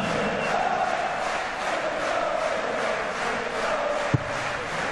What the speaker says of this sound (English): you can hear the noise of that crowd